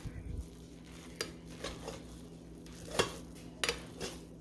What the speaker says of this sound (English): I'm going to fluff up this rice